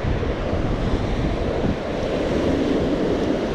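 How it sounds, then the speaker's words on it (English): Water rushing hard down the Big Creek spillway, a steady, loud roaring wash of white noise with wind buffeting the microphone, continuous and unbroken, with no voices. "That water's coming down pretty good"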